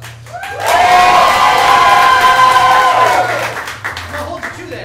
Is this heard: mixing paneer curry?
no